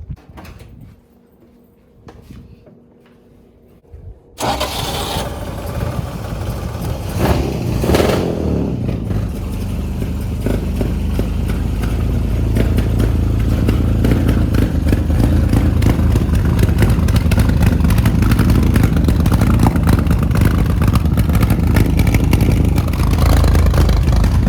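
A 1953 Chevy engine cranking over and catching after a few quiet seconds, then running steadily and loudly up close with a rough, rumbling idle that settles into a constant drone, with some clattering near the start.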